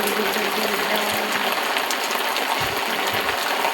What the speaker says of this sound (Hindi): देखिए गाइस, तो कितनी तेज़ बारिश हो रही है,